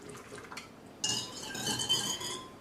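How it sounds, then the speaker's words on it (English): Yeast mixture for a king cake is whisked in a bowl, starting with light taps and clinks, then breaking into a brisk run of close metallic whisk-against-bowl rattling. "All right, so whisk that all together."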